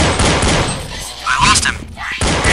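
Loud gunfire in the video game Counter-Strike, a short close burst of shots with voices talking over it.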